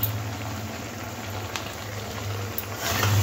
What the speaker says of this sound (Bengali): এগুলো লাল করে ভেজে নিয়েছি, তুলে নেব